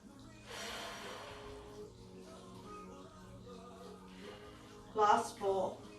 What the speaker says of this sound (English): I'm drawing an in breath to come up, an out breath to roll back